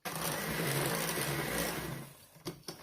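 Electric mixer beating cake batter with eggs for thin peanut cake layers, a steady close whirring drone that cuts off near the end, followed by a few light knocks.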